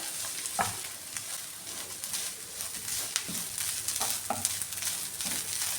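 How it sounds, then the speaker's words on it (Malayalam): Grated coconut, shallots and green chillies roast in a pan on medium flame, giving a continuous soft sizzle with occasional scraping stirs of a spatula close by. "ഇനി ഇത് നന്നായിട്ടൊന്ന് വറുത്തെടുക്കാം"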